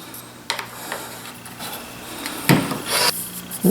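Hand plane shaving the sides of a wooden chisel cover: a few separate rasping strokes of varying length, close and moderately loud, with quieter scraping between them.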